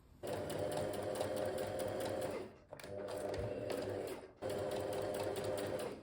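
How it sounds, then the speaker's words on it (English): A sewing machine stitches along the edge of a dress to trap its layers together, running in three fast, steady, whirring bursts separated by two brief pauses, loud and close with no talking. "Next you need to sew along the edge here just to trap the rest of the layers together"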